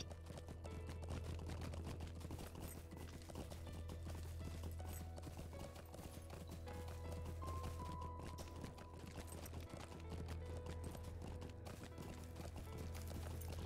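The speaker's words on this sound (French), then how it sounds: "Avec son cheval, elle trace." Rapid hoofbeats from a galloping horse in a Middle-earth video game run continuously under a steady low hum, faint and evenly paced throughout.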